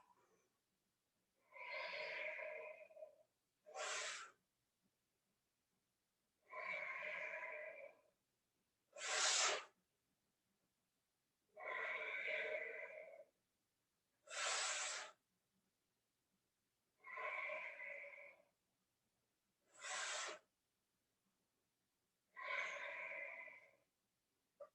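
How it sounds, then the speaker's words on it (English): Slow, audible breathing during a seated chair yoga session, nine soft breaths in a steady rhythm, longer airy inhales alternating with shorter, brighter hissing exhales, close and quiet with no talk. "Try to make a little sound with your breath."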